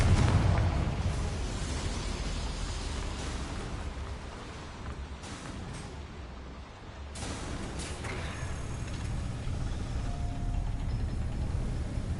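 A Confringo fire spell bursts in a video game to light boilers, a loud sustained roaring rumble that dips briefly midway, then surges and carries on to the end.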